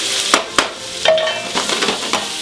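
Lardons frying in a little oil in a pan heated to 200°C, stirred with a spatula: steady close sizzling with sharp scraping clicks of the spatula against the pan, and no talk.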